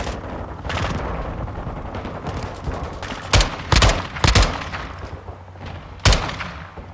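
Gunfire in Modern Warfare 2, with dense rattling bursts and several loud, sharp shots standing out, interspersed with shorter cracks over a busy battlefield din.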